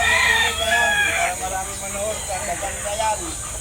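Roosters crow in a backyard where fighting cocks are kept, one loud nearby crow at the start followed by fainter clucking and distant calls, with people talking over it.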